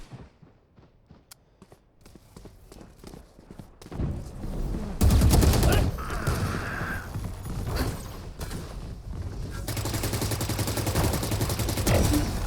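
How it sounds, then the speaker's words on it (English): Rifle fire in a Valorant match: sparse clicks and light thumps give way to loud sustained bursts of automatic shots that come in waves, close and dominant, with a short lull between volleys. "Leafy able to use all 25 bullets there and able to pick them up there"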